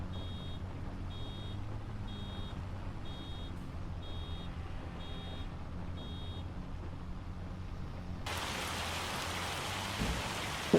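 Hail pours down during a hailstorm in Farming Simulator 25, a steady dense patter with faint repeating electronic beeps, growing brighter and harsher near the end.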